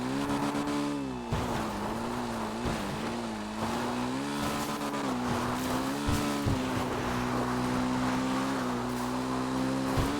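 A steady, droning attack boat engine hum in GTA Online with a rising and falling pitch, continuous and fairly loud throughout, with occasional thumps and splashy bursts.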